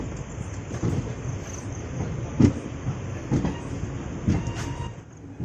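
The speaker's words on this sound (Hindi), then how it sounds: "ट्रेन चंद्रपुरा जंक्शन से खुल चुकी है" Vananchal Express, an Indian Railways train, rolling on rails after departing Chandrapura Junction, with steady rumble and periodic clickety-clack wheel thumps over rail joints, heard from inside, no talk.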